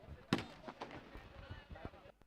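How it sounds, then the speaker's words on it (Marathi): Firecrackers go off near a village cricket match, one sharp pop followed by a few softer bursts, faint and distant beneath a commentator talking. "फटाके फटाके मास्टर फटाके आपण वाजवू नका"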